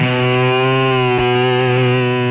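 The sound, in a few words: Telecaster electric guitar playing with effects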